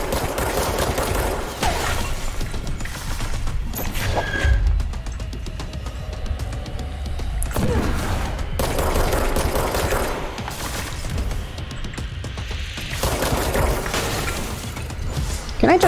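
Rapid bursts of gunfire from the video game Control come in repeated volleys with crashes and impacts, loud and close, while a player talks over the action.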